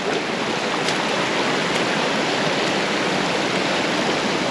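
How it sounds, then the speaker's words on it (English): A small waterfall chute in a Utah slot canyon gives a loud, steady, close rush of broadband water noise with no break and no voices. "Another little waterfall, little chute."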